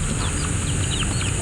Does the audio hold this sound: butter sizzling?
no